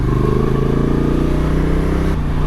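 A motorcycle engine idles and pulses at low revs as the rider slips the clutch through a slow U-turn, a close, steady throbbing rumble that drops off briefly near the end.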